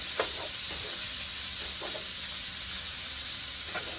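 Thin-sliced Philly cheesesteak beef sizzling in a big skillet, a constant close hiss with several short spatula scrapes and stirs scattered through it, no talking.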